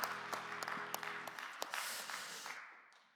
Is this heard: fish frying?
no